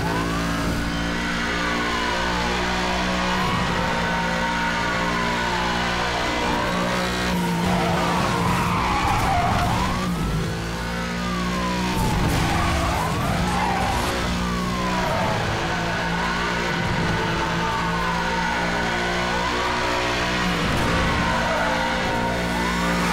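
Car tires skidding under hard braking in the racing video game Need for Speed Hot Pursuit Remastered, with repeated squealing sweeps over a steady engine drone and game music throughout.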